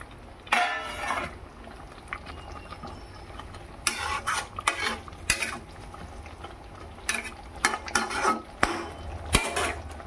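Fried pakoras, bought ready-made, being dropped into a pan of chhena kofta curry, giving a few short clattering and stirring knocks against the metal pan at close range, with quieter kitchen noise between them.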